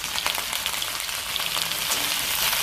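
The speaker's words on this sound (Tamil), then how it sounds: "அதுலேயே வெண்டைக்காயையும் ஆட் பண்ணி வதக்கிக்கலாம். இப்படி கருவேப்பிலையும் சேர்த்துக்கலாம்." Okra and curry leaves sauté in hot oil with a dense, hissing crackle that stays steady and close, with no voices present.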